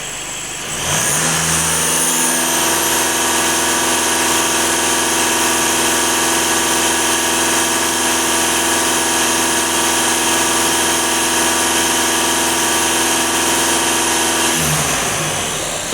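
A VW Passat 2.0 TDI diesel engine is held at raised revs, giving a steady, loud, close droning hum for about fourteen seconds before dropping away. No one speaks.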